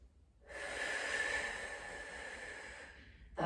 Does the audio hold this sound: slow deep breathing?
yes